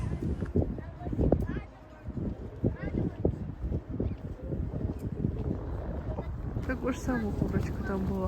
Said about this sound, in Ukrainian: але було в цей день вітряно і трошечки вже прохолодно